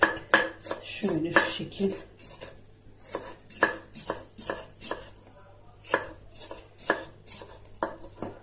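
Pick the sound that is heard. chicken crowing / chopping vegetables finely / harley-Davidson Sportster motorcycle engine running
chopping vegetables finely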